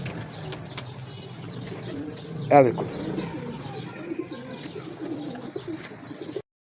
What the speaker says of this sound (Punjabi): ਇਹ ਵੇਖੋ ਜੀ, ਇਹ ਦਿੱਤੇ ਜੇ ਕਬੂਤਰ।